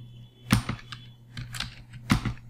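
Someone types on a computer keyboard at a Red Hat Enterprise Linux terminal, making a few sharp, close key clicks in uneven bursts over a steady low hum, with no talk.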